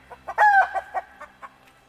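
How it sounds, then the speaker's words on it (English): Loose chicken in a garden clucking close by, a few quick clucks followed by one drawn-out squawking call and then several softer trailing clucks. "I have a chicken out, so I'm gonna go catch the chicken and clip her wings"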